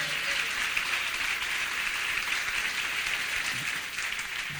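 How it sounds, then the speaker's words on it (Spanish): Church congregation applauding at a fasting service, a steady, distant wash of clapping that continues evenly and fades slightly toward the end. "Dele ese aplauso al Rey."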